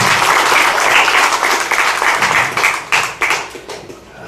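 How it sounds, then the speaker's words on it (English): A crowd at a Relay for Life event breaks into a sustained round of applause, dense and close, holding steady before tapering off with a few scattered final claps. "And I think everybody deserves a round of applause."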